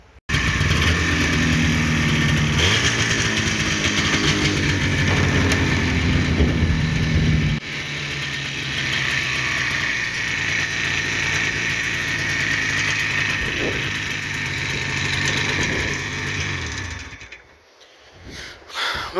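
Spitfire snowmobile engine running loud and steady, taken for a short ride to warm up; the tone shifts after a few seconds, then the engine drops low near the end before picking back up.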